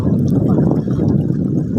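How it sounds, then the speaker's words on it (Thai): Strong, windy surf rolls onto a sea shore as a continuous loud roar and wash of water, with no talking. "คลื่นชักจะแรง ลมชักจะแรงแล้วดูดิ ขึ้่นน่ากลัว"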